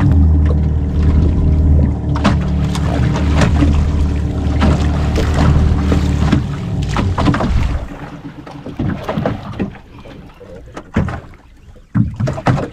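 Water sloshes and knocks against a boat hull as it moves, with a low rumbling engine-like drone early on, then scattered splashes and bumps.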